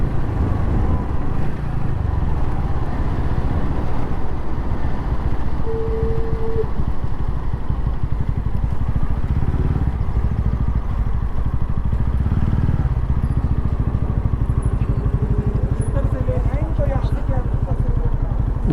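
Motorcycle engine drones steadily while riding along a road in Haryana, a constant close hum with wind buffeting throughout and a voice speaking over it.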